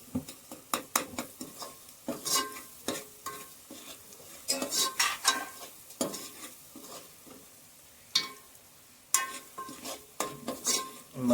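A spoon scrapes and clatters rapidly against a pan in bursts while onions sizzle and fry underneath.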